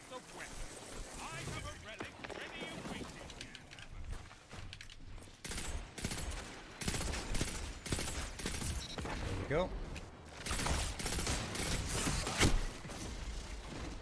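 Rapid bursts of scout rifle fire (the Telesto) in Destiny 2 crackle amid chaotic effects and background noise, with a voice speaking briefly near the start.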